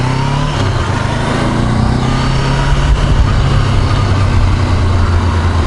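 A Honda CB500X demo motorcycle rides back into a dealership, its engine a steady close low rumble with a slight rise in revs and wind noise, and no talking.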